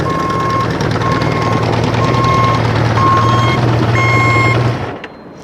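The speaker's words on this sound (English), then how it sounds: "The turn signal buzzer is a factory component there." The factory turn signal buzzer on a 1974 Honda CB550K Four motorcycle beeps in regular repeating tones over a steady engine rumble, up close and loud, until the sound cuts off near the end.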